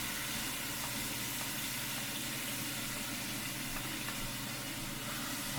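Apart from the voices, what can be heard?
vegetables sautéing and sizzling in a hot pan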